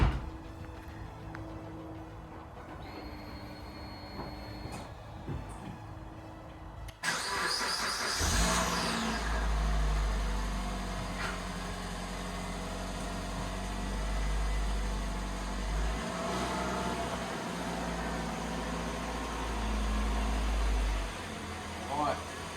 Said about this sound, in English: Let's see if the car starts after 2 weeks.